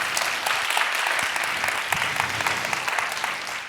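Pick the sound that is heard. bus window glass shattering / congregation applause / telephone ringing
congregation applause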